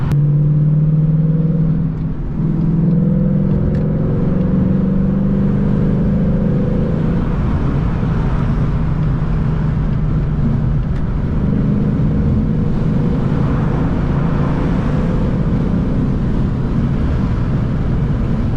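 A Ford Mustang GT drives and accelerates, its engine droning loudly from inside the cabin with the pitch rising and falling through gear changes, then settling into a steady rumble mixed with road and wind noise.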